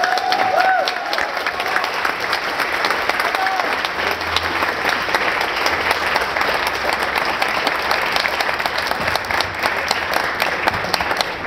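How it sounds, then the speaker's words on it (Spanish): A large audience bursts into sustained applause at a libertarian panel event in Mexico, dense and loud clapping that holds steady from start to finish with a brief voice near the beginning. "Recibámosla con un fuerte aplauso."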